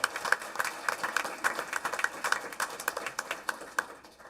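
A scattered round of applause from a small audience at a school board meeting honoring award winners, with individual claps distinct and fairly close, holding steady before tapering off.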